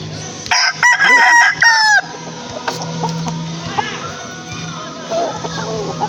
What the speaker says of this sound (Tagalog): Isang manok.